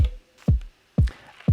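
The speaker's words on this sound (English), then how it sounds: "The first one is a kick sound, and that sounds like this." A punchy, low kick drum repeats about every half second, each hit thudding and decaying quickly, loud and dry with no other sounds.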